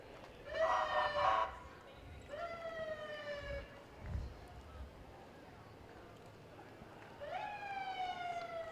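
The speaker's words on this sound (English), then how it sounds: "We like to see those lights and hear the sirens from this vantage point" Monroe County Sheriff's vehicles in an Independence Day parade in Penfield, New York sound short rising siren whoops, several separate bursts spaced seconds apart, while someone talks over a public address.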